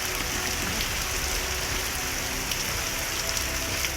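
Heavy monsoon rain in Gujarat pours down steadily, a dense, constant hiss of drops striking surfaces, with no voices.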